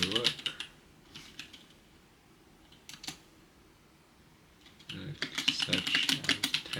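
Computer keyboard typing comes in quick clattering bursts, near but faint, separated by quieter pauses and growing denser toward the end.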